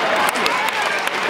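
An audience at a university speech applauds, a dense burst of many hands clapping in a large hall, steady and moderately loud throughout with a few sharper claps standing out.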